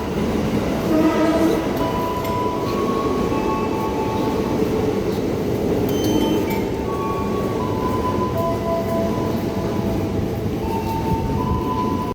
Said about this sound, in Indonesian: ini keretanya udah nyampe, kita naik di peron 2 yang ke jurusan Kampung Bandan